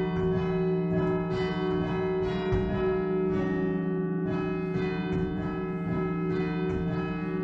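Shandon church bells in Cork City peal out a pop song, a loud, clear melodic sequence of struck bell tones with ringing sustain, heard alone without talk.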